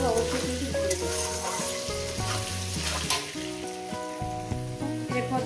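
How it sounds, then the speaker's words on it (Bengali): Taro (kochu) frying in a pan for a fish curry with vegetables, a steady continuous sizzle with scattered crackles throughout, close and fairly loud, under light background music. "এই গাটি কচুটাকে দিয়ে আমি 5 মিনিট ভেজে দেবো।"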